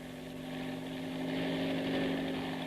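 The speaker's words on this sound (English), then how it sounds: "I ran across the heliport to Shockin's private helicopter" A private helicopter's steady, loud engine drone with a rotor-like throb at a heliport, continuous and close, rising slightly in intensity.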